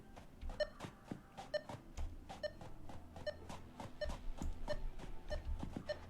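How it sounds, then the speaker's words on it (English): Regular electronic beeping from a hard drive in the video game Satisfactory, pulsing at an even quick rhythm over a low rumbling background, fairly faint. "Because I feel like it's beeping."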